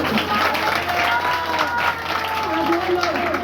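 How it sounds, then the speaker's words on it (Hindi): An audience at a church service claps in praise, a dense, steady wash of applause heard at moderate distance with no clear voices on top. "ताली बजा के प्रभु की महिमा"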